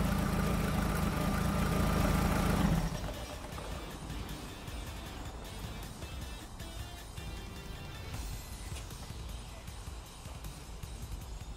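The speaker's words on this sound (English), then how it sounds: "Just let it run over and circulate the oil around the engine." A Seat Ibiza 1.4 16v car engine idles with a steady low hum during a service, loud at first, then dropping to a quieter, even running rumble that continues to the end.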